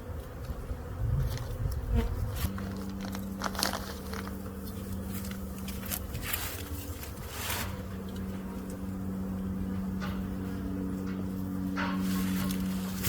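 Honey bees buzz around a hive fed with a pollen patty, a steady low drone with several overlapping hums drifting near and far amid faint rustling and taps, no voices.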